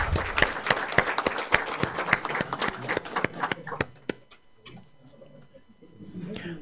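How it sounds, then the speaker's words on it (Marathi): An audience claps at a university felicitation ceremony: dense, sharp applause that thins into scattered claps and fades after about four seconds, leaving faint room noise. "जोरदार टाळ्या होऊ द्या."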